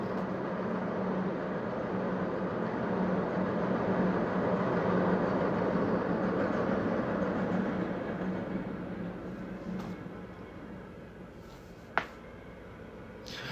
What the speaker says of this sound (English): The train is going by.